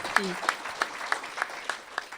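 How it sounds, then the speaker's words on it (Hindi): An audience claps in a steady, evenly spaced rhythm for a patriotic cheer at a talk, with about eight claps that are moderately faint and slightly distant over roughly two seconds. "जोरदार तालियां मोदी जी के लिए, भारत के लिए।"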